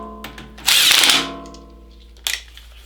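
A power tool drives RB25 cylinder head bolts down, whirring loudly in a short burst followed by a second brief spin, close and alone.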